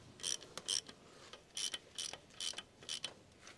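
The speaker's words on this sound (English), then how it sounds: "Use an 8mm hex bit with a large ratcheting wrench. Tighten the bolt." A large ratcheting wrench with an 8mm hex bit tightening a bolt that secures a disc to a crankshaft, a series of quick clicking ratchet strokes in bursts, close but quiet.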